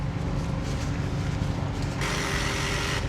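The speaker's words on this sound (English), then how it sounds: "there's some kind of funky sound there on the fuel pump" A BMW superbike fuel pump makes a steady mechanical whirring and buzzing hum with a rough, uneven texture, shifting to a higher hiss partway through, close by with no talking.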